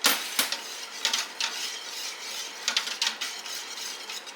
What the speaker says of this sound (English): Whisk that in